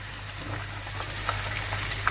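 Sweet potato pieces frying in hot oil give a steady, dense sizzle and crackle throughout, with a couple of small pops near the end and no talking.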